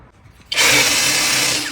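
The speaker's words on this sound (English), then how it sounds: "It's way easier when your drill battery isn't dead." A cordless power drill whirs to life after a brief quiet moment, then runs continuously at a steady high-pitched whine, loud and close, while refinishing a table.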